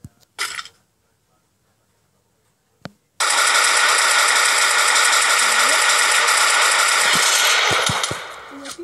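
Rapid sustained automatic gunfire in the mobile shooter Free Fire, a dense unbroken burst lasting about five seconds, loud and close, preceded by a couple of short isolated shots.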